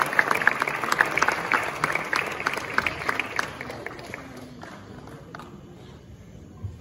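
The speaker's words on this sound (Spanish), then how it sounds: "Fuerte aplauso para estos muchachos que son talento Guanambú." A crowd applauds students at a school talent recognition ceremony, a dense patter of hand claps starting strong and gradually thinning out and fading over several seconds.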